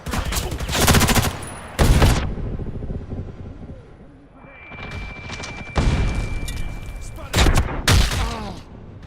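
In the online shooter Ghost in the Shell First Assault, loud bursts of automatic gunfire and a heavy grenade blast erupt close up in waves, with radio-style voices speaking between the shots.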